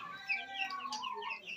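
Colombian Brahma chickens with their chicks make quiet clucks mixed with high, thin chick peeps that overlap continuously, faint and fairly close, with no one talking.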